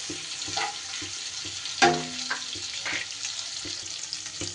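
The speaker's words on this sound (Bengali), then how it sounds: "আদা আর কাঁচা লঙ্কা বাটাটা একটু তিরিশ সেকেন্ডের মতো তেলে নাড়াচাড়া করে ভেজে নেব" Ginger and green chilli paste frying in oil while it is stirred, in the making of potol butter paneer. A moderate sizzle carries a sharp spatter or clink near the middle and a few soft stirring scrapes, with no talk.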